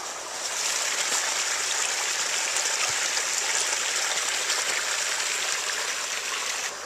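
A small brook running full after heavy rain and floods, a loud, steady close-up rush and trickle of water that holds evenly throughout with no voices.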